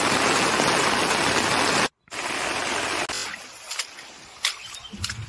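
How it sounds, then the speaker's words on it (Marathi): Heavy rain shower pours over open farmland, a dense steady roar that cuts out briefly, returns, then thins into lighter rain with scattered louder drops. "आता पावसाची जोरदार सर आले बघा"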